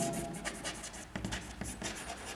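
Chalk or marker writes on a board in a classroom, a string of short scratchy strokes in uneven bursts, close and fairly quiet, with no talk.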